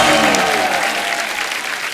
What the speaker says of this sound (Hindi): जोरदार तालियां हो जाए मधुर सर के लिए।